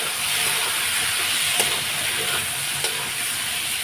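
Chana dal masala sizzles and fries steadily in a pan with ground cumin, a constant broadband hiss with a couple of sharp stirring clicks, close and alone.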